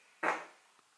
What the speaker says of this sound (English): Real fart.